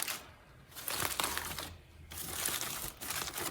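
Aluminium foil crinkles and rustles as it is folded down around the edges of a rack of smoked Carolina-style ribs, close and moderately loud, coming in a few uneven crumpling bursts with brief quieter gaps.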